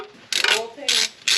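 A torque wrench tightening oil pan bolts on a B18 engine gives three short, sharp ratcheting bursts close up, separated by brief pauses.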